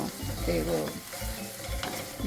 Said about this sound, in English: Keep stirring a little bit so that they don't become too burnt